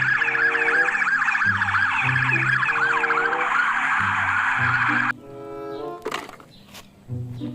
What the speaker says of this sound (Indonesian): Wow, ada mobil polisi.